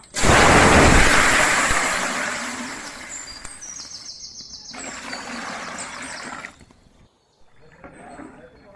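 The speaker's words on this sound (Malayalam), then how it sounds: "വെള്ളം ചേർത്ത് കൊടുക്കുക." Water is poured into a cooking pot for a Kerala-style beef biryani. A loud rushing gush comes first and then settles into a softer trickle and splash before it stops near the end.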